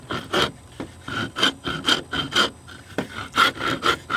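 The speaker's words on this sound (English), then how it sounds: "To get that real jagged edge off from the separation, you get a round file." A round file rasps back and forth across the edge of a yoyo fishing reel in steady, loud, rhythmic strokes, about two per second, close up and with no speech.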